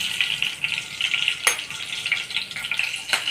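Slit green chillies drop into hot oil with cumin and mustard seeds, setting off a close, steady sizzle with a sharp crackling burst as they hit the pan.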